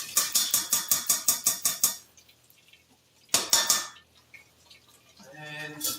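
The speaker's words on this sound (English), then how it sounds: "So I'm going to go ahead and add the dal in here." Lentils tipped into a metal cooking pot in a kitchen land in a quick run of clattering, rhythmic clanks, followed by a pause, another loud metallic burst and a soft sizzle.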